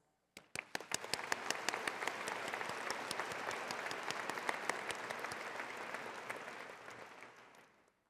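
Commencement audience giving a round of applause, a sudden burst of many hands clapping that builds, holds steady for several seconds, then thins out and fades.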